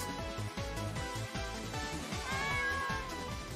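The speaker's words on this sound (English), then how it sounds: "Hey, it's a cat." Cat meowing in a Touhou video game, repeated drawn-out mews layered over a rhythmic game soundtrack with pulsing bass, clear and fairly close, no talking.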